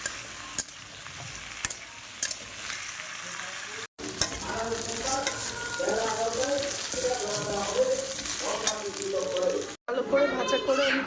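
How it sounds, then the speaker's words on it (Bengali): Bay leaves, dried red chillies and radhuni seeds temper in hot oil with a loud, crackling sizzle and rapid spitting pops, interrupted by two abrupt cuts, while a voice speaks over parts of it. "রাঁধুনি ফোড়ন দিয়ে তেজপাতা দিয়ে শুকনো লঙ্কা দিয়ে প্রচুর দিয়ে দিলাম"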